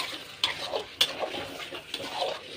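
Curry frying in oil in a pot, a low sizzle under a few scraping stirs and sharp metal clinks of a ladle against the pot, short and fairly quiet.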